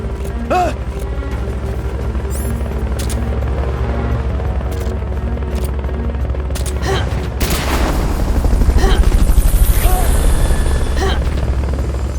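Recovery helicopter in the video game Metal Gear Solid Peace Walker, a loud, steady low rotor drone, with gunfire bursts and mechanical booms, swelling louder near the end.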